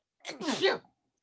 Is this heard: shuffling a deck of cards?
no